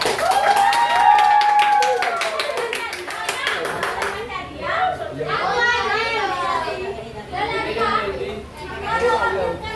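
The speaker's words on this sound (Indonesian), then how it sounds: "Tepuk tangan buat Adel" A classroom of seventh-grade students claps for a classmate, a dense burst of hand claps over lively children's chatter that continues as the applause fades and voices carry on.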